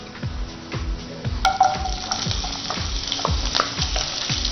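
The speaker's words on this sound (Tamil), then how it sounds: "வெங்காயம் கொஞ்சம் நேரம் நல்லா வதக்கலாம்" Onions frying in hot oil after fennel seeds, a close continuous sizzle with repeated stirring scrapes at a steady rhythm and an occasional utensil clink.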